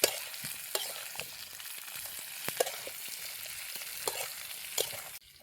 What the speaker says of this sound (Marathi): अगोदर आहे ना फक्त मस्त वांगी घालूनच आहे ना आपल्याला चांगलं असं परतून घ्यायचं.